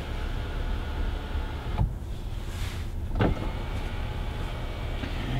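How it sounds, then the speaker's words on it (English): Electric front sunroof of a 2020 Kia Telluride SUV opening, with short motor whirs from inside the cabin over a steady background hum, no talk. "But what you can open, it's a sunroof in the front."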